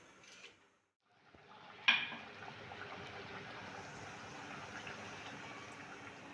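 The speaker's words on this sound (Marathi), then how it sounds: "भाजी चांगली हलवून घ्यायची आणि तिला छान उकळी आणायची" Chakwat greens in buttermilk simmer in a pot, giving a steady soft bubbling hiss after a brief clank and a sharp knock near the start; no talking.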